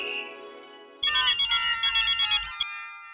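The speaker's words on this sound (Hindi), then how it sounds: "मैं मेहता साहब को फोन करता हूँ।" A telephone ringtone plays while a call is placed: a melodic electronic tune sounds alone, then a brighter repeating ring pattern pulses several times before cutting off.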